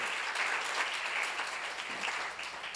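Audience applause at a Korean church seminar, a steady dense wash of many hands clapping close and loud throughout, with no talking.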